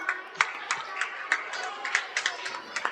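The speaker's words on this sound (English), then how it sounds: "Please give them a huge round of applause" Light clapping from an audience after a performance at an Independence Day program, quiet and fairly sparse, with individual claps standing out over a soft murmur.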